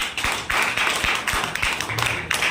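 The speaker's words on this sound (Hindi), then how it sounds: "एक बार जोरदार ताली बजा दीजिए, जोरदार।" A seminar crowd in Bhabua claps loudly in rhythmic unison, with sharp beats arriving at a steady pace of roughly two per second and filling the room.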